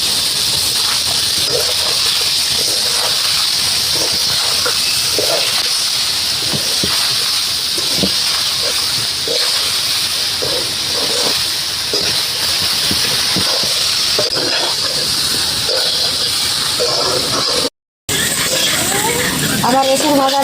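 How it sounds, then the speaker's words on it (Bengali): Spice paste and jackfruit fry in a pan for vegetarian jackfruit biryani, giving a loud, continuous hissing sizzle with scattered crackles and small clinks, running steadily with a brief dropout near the end. "এখন এসবটা কষাতে সুন্দর করে কষাতে হবে, একদম লাল লাল করে।"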